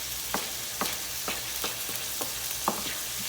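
Ground meat for chili sizzling steadily in a pan while a utensil scrapes and pushes it aside, sharp scraping strokes repeating about every half second over the continuous frying hiss.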